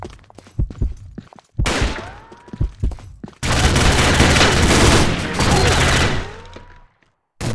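Gunfire in a video game shooter match: scattered shots and thuds, then long dense bursts of rapid automatic fire, loud and close, with brief pauses between volleys.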